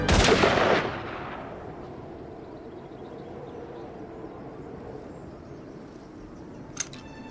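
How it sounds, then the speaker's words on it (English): A single loud gunshot from the cartoon Family Guy bursts out at the start and rings off into a long, quiet tail of room tone, with a faint click near the end. "While we brace ourselves for Lois's death, we hear a gunshot, but instead it's Diane who gets killed."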